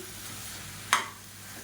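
Chicken sukka with curry leaves and slit green chillies sizzles in a pan, a soft continuous fry with one sharp, bright crackling burst as the ingredients are stirred in, close and fairly quiet.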